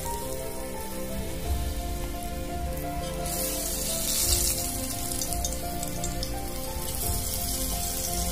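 Potato bhaji dipped in chip-style batter deep frying in hot oil, a steady dense sizzle and crackle running continuously from start to finish with no talk.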